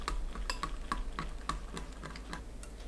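Quiet, irregular clicks and taps of a spoon knocking against a bowl while tangerine juice is stirred with sweet potato and corn starch, close by, with no voices.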